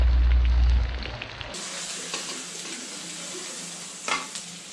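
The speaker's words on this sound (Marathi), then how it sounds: "त्यानंतर मॅरिनेटेड कोळंबी कडक तेलामध्ये हलकी फ्राय करून घ्यायची आहे" Marinated prawns lightly frying in hot oil in a kadhai, a steady close sizzle with occasional stirring clinks after a loud opening burst.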